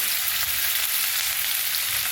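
Tomatoes, green chillies and crushed cashews roast in a hot pan, giving a steady, dense sizzling hiss that stays close and even throughout, with no voices.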